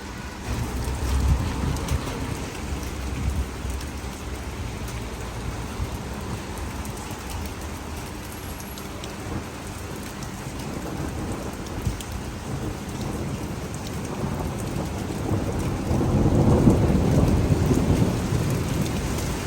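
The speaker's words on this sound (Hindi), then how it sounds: "नॉन स्टॉप बारिश हो रही है, फुल हैवी किस्म की हो रही है" Heavy rain pours continuously while thunder rumbles low beneath it, swelling louder toward the end.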